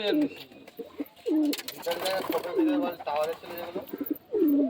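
Madras pigeons coo close by in repeated soft, throaty rolling calls at a slow rhythm, with other pigeon murmurs and fluttery noises between them.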